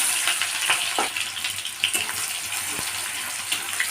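Chopped onion and tomato frying in refined oil hiss and sizzle steadily up close, with a few soft scrapes and knocks mixed in.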